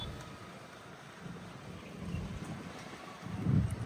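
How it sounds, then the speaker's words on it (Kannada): Rain falling in Rameswaram, Tamil Nadu, a soft steady patter with low rumbling wash that swells slightly toward the end, faint and distant-sounding. "ಇದ್ದಕ್ಕಿದ್ದಂಗೆ ಮಳೆ ಸ್ಟಾರ್ಟ್ ಆಯ್ತು"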